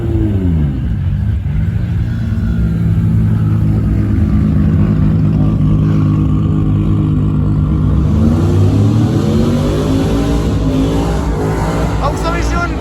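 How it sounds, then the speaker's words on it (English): A Cadillac Escalade does a burnout at a casino car show, its engine roaring and revving loudly and steadily with rising and falling pitch, amid a noisy crowd and voices talking throughout. "that was a burnout from an Escalade"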